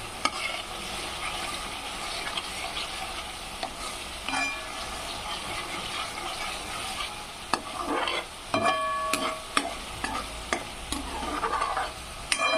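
Masala for egg curry fries in oil over low heat in a pan, sizzling steadily. A spoon stirs and scrapes against the pan at intervals, close and clear, with no talk over it.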